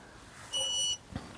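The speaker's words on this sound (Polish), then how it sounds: "Kierunkowskaz lewy, pika dosyć głośno." A single loud electronic beep from the left turn signal of an RCB R10S electric scooter, a steady high tone lasting under half a second over quiet background, followed by a faint click.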